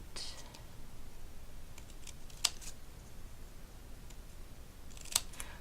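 Sharp fringe scissors snip through paper or cardstock in a craft setting, giving two or three crisp, short cuts spaced apart over a quiet background.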